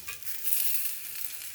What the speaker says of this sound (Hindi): ये सबको थोड़ा सा फ्राई कर लूँगी मैं, करीब आधे मिनट तक।